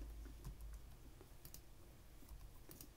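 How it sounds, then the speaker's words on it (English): Quiet computer keyboard shortcuts tapped in short scattered clicks, faint and close, with no voices. "I'm changing tools by using the keyboard shortcuts"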